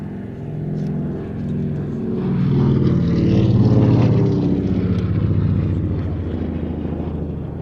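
A vintage reconnaissance propeller aircraft, the UK's first aerial reconnaissance platform, flies past at Sywell Airshow with a droning engine that swells to a peak midway and then fades slightly, loud and unbroken, with no voices.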